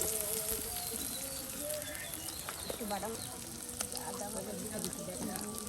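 Chopped onion and chili fry in oil for noodles in a village kitchen, a steady soft sizzle with occasional stirring clinks and faint birdsong in the background.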